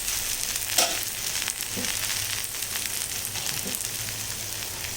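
A lentil adai dosa sizzles on a hot pan right after being flipped, with a steady broadband frying hiss and a few soft clicks of the spatula, close and continuous.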